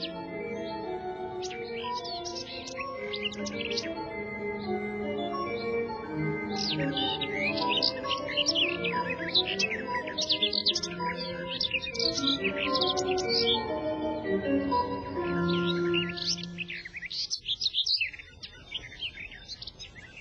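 Bright, rapid warbling birdsong fills the air, with many quick chirps and trills overlapping continuously from close by.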